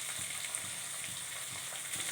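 Chopped onions and green chillies with curry leaves frying in hot oil in a pan, a steady close crackling sizzle with faint stirring taps, no voices.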